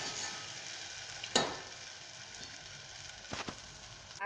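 Sabudana khichdi sizzles steadily in a pan, a soft, continuous frying hiss broken by a few brief scrapes from stirring, with no voices.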